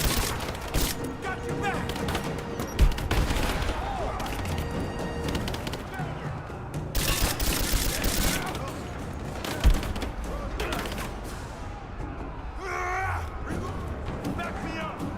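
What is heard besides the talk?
gunfire in the video game Rise of the Tomb Raider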